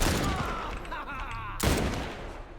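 A burst of rapid gunfire from The Last of Us, loud and close, with a second volley cutting in about halfway through, and no one talking over it.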